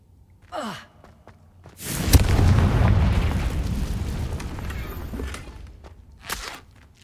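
A Confringo fire spell blast in Hogwarts Legacy erupts as a loud, broad whooshing burst that swells and slowly fades over several seconds, with a brief swish before it and a short crackle near the end.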